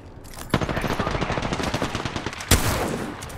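Rapid automatic gunfire in the video game Apex Legends, a loud, close burst of repeated shots with a heavier blast partway through, no talking.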